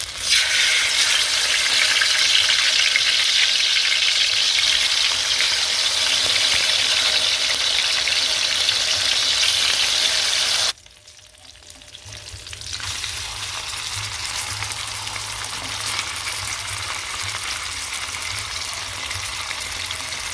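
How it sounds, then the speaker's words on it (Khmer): Marinated riel fish fries in soybean oil in a pan with a loud, steady crackling sizzle that cuts out abruptly for about two seconds, then returns slightly quieter. No one speaks. "យើងយកត្រីរបស់យើងទៅចៀនណាបងប្អូន យើងដាក់ខ្ទះមកយើងចាក់ប្រេងសណ្ដែកចូលមកដើម្បីចៀនត្រី"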